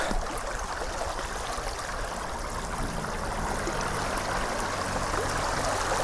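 Floodwater from the broken bund of the Kley river pours toward rice fields in Ziro after incessant rain, a steady close rushing and gurgling flow that continues without a break and has no talk over it.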